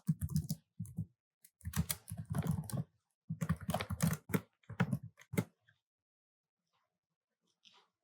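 Java code being typed on a computer keyboard: close bursts of rapid key clicks in uneven runs with brief pauses, stopping after about five seconds and followed by near silence.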